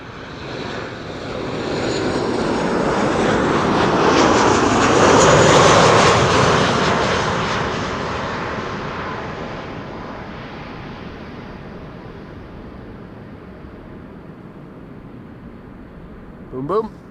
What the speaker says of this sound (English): This is KLM flight 1602 arriving from Rome,